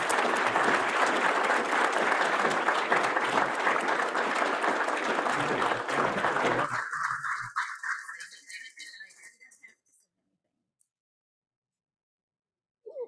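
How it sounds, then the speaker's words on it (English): Sustained applause for an honoree at a weekly meeting, a loud dense round lasting about seven seconds before thinning to scattered claps and fading into silence. "let's give him one more round of applause"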